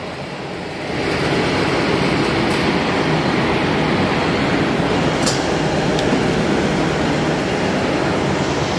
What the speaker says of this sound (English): here's the drying blower. Let's switch it on, let's see what noise it makes.